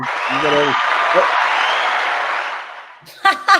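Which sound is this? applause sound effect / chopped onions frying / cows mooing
applause sound effect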